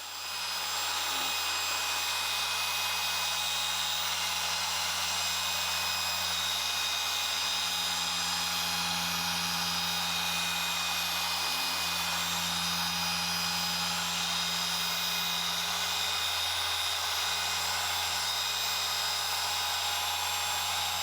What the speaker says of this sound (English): I was constantly changing the speed of the machine to suit the types of areas I was machine polishing